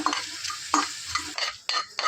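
Poppy seeds frying dry in a pan for a country chicken curry, with loud close spoon scrapes in short bursts over a light sizzle.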